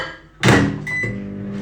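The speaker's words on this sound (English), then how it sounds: "So we're going to melt our butter in the microwave for a few seconds." A microwave oven heats butter to melt it: a thud like the door shutting, then a short electronic beep and a low, steady running hum with no talk.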